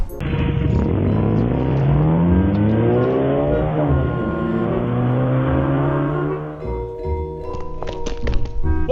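A car engine revs up and pulls away, the rising whine of acceleration dominating for several seconds before fading, followed by a few scattered thumps and clatter nearby.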